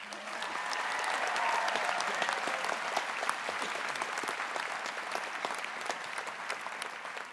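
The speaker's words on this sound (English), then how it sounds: "Give yourself a huge round of applause." Graduates applaud at a 2018 college convocation ceremony, a sustained wash of dense clapping from a large indoor crowd that slowly tapers off.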